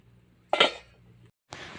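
A metal lid clinks down onto a pot with a short rattle, then a second light clatter moments later.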